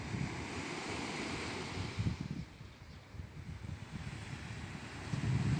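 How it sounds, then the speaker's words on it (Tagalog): Waves wash in on a cold beach in steady broad rushes, loud and close, with gusts of wind buffeting the microphone and swells rising again near the end. "tingnan nyo oh, ang ingay ng tubig"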